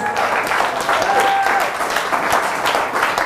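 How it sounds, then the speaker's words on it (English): An audience at a lecture applauds steadily for a few seconds, a dense wash of close, continuous clapping with a faint whistle or voice tone briefly above it. "Let's give a cordial round of applause."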